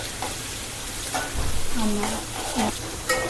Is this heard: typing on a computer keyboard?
no